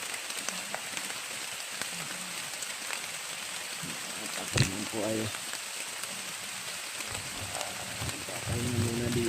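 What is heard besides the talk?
heavy rain falling outdoors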